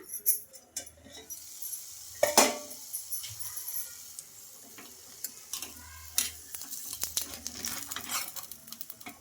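A flatbread fries in a pan and is flipped over, then covered with a plate: soft sizzling runs throughout, broken by sharp clatters and taps of utensil and plate on the pan, close and without speech.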